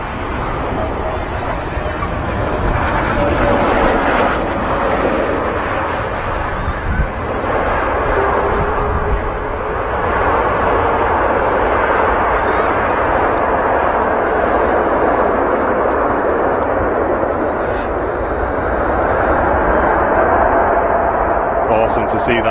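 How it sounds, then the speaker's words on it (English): An Airbus A380 touches down on runway 05 left at Manchester Airport, a loud sustained engine roar and rumble heard from nearby, with voices talking over it. "So just touching down now is the A380."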